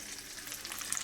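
Eggplant lightly frying in a pan with tomato and green chillies, a soft, steady sizzle with faint crackles, quiet and close, no voices.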